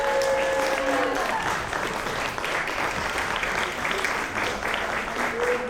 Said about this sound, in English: I think Nyla brought her own cheering section today.